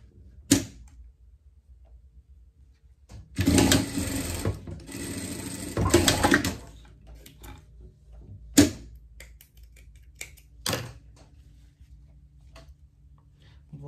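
Sewing machine stitching the side seam of a small pet swimsuit, two short bursts of rapid whirring with a few brief clicks and taps between them, close and fairly quiet.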